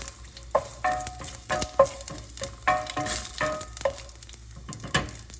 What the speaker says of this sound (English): you want to add about 3 dried chilies. Then you want to just mix them up to make sure that they don't burn.